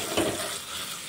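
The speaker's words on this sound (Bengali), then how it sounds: "এবার সমস্ত কিছু দিয়ে সুন্দর করে আর একটু কষিয়ে নেব।" Ground coriander, cumin, turmeric and salt fry in a pan with a brief, close, continuous sizzle and a quick stirring swish at the start.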